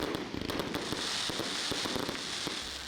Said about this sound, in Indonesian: Kemeriahan malam pergantian tahun diwarnai dengan pesta kembang api yang dipusatkan di lapangan Borasi